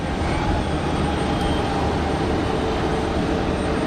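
A Pegasus Airlines A320neo airliner taxiing at Geneva Airport, a loud, steady engine roar with broad rushing noise that holds evenly throughout.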